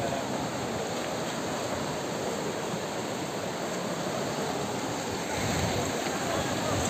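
Floodwater in Assam in 2022 surges with waves past a railway bridge near Chapar junction. The water makes a steady, loud, broadband roar that holds throughout, close by, and no voices are heard.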